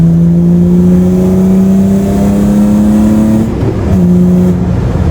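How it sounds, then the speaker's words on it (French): BMW E30 fitted with a Super Sprint exhaust, engine revving loud and close with a steady rising drone, a brief dip and shift near the end, no talking. "toujours un régal de rouler avec la E30 maintenant qu'il y a le Super Sprint"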